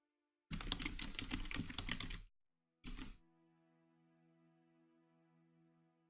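Rapid typing on a computer keyboard, a dense burst of clattering keystrokes lasting almost two seconds, a short pause, then a brief second burst, followed by a faint steady hum.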